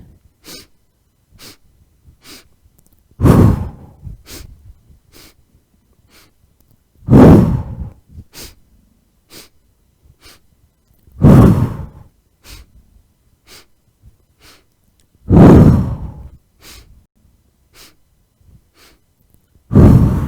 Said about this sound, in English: So take a deep inhale and exhale and begin.